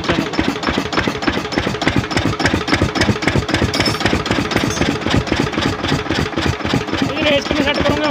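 A Lister engine runs steadily at close range with a dense, rhythmic knocking chug as the throttle is raised, its beat continuous throughout while voices talk over it.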